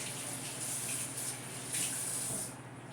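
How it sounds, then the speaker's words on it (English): Water runs steadily from a kitchen tap as hands are washed beneath it, a close, even hiss with a brief surge of splashing. "Wash my hands real quick"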